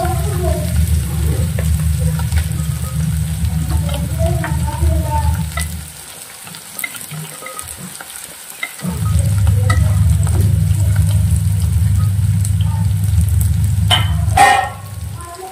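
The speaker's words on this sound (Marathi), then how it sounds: "तर कांदा छान गुलाबी होईपर्यंत भाजून घ्यायचा आता इथे" Onion roasts in a pan with a loud, close, continuous sizzle that drops away for a few seconds midway, then returns just as strong, with a brief sharp clatter near the end.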